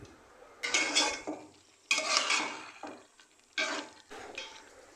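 A spoon scrapes and stirs khichuri sautéing in a pot, in three bursts of clattering, sizzling strokes separated by short pauses. The strokes are close and moderately loud, with no talking.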